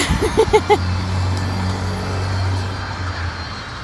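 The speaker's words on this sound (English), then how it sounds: "Man, this traffic is probably going to be murder for this video. I didn't think there would be this many cars out." Many cars pass by on a road at night, producing a steady low engine drone and rolling tire rumble, with a few quick electronic beeps near the start.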